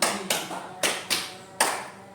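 Five sharp hand claps in an uneven pattern, spaced about a quarter to half second apart, close and distinct with no talk, as in a counting clapping game in a classroom.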